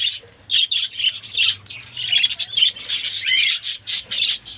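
Fischer's lovebirds at a breeding nest pot give rapid, shrill squawks and chirps in quick overlapping bursts, close and lively throughout.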